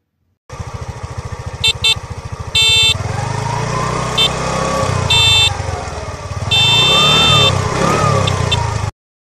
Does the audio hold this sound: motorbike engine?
yes